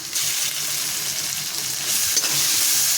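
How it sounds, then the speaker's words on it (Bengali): Chopped capsicum fries in a pan with cashew and raisin paste while being stirred for a katla chilli fish dish, making a steady, close sizzle broken by brief scraping stirs. "দেখো ক্যাপসিকামটাও দিয়ে দিয়েছি, এইভাবে কষাবো।"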